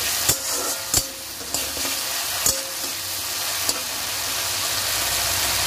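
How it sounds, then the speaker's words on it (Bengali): Spice masala fries in oil with a constant close sizzle while a ladle scrapes and knocks against the pan every second or so. The clinks thin out toward the end, with no voices. "এবার দিয়ে আমি এটাকে ভালো করে নাড়াচাড়া করে নেবো, মানে ভালো করে একটু কষিয়ে নেবো"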